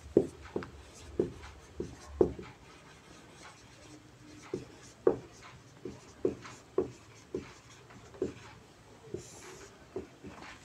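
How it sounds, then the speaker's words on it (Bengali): Chalk or marker strokes on a classroom board during a physics lesson, a series of short scratchy taps and scrapes in uneven rhythm, close and moderately loud with no talking. "4 নম্বরটা উপরে লিখি"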